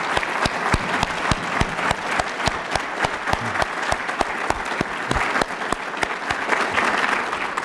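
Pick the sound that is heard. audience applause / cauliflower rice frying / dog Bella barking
audience applause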